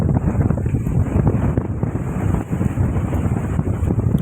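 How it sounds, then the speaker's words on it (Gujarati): Strong, gusty wind during a rainstorm buffets the microphone with a continuous loud low roar and rumble, no speech. "પવન એ પણ અત્યારે એમ લાગે કે મિની વાવાઝોડું છે તેવો પવન પણ ફૂંકાઈ રહ્યો છે."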